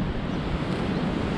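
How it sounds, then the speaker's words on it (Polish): Rough sea surf churns at a coast on Tenerife, a continuous dense wash of breaking water mixed with gusty wind buffeting the microphone. "zburzyło się morze i o tam przyszalało nieźle"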